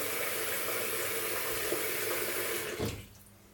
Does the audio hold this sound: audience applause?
no